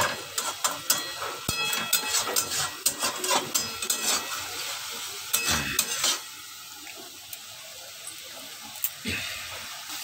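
Masala for a Bengali golda chingri malai curry fries in oil, crackling and sizzling with a busy run of stirring scrapes and clinks that thins out into a quieter sizzle.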